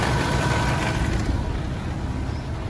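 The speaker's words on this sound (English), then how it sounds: "Other than that, the engine is amazingly quiet." 2015 Kenworth T660 truck with an MX 485 engine idling, a steady broadband rumble with a faint air-cleaner rattle, fairly quiet and continuous with no talk.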